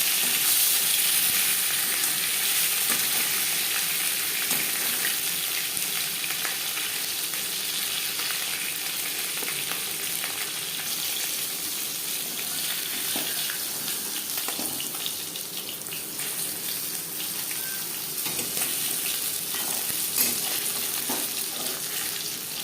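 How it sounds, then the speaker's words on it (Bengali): Steady, continuous sizzle of katla fish frying in hot oil in a wok, a bright hissing crackle that carries on without pause. "মাছ ভাজা হয়ে গেছে"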